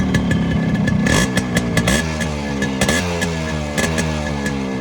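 Yamaha RX100 two-stroke motorcycle engine running nearby, loud buzzy idle broken by several sharp revs and crackling blips, with no talking.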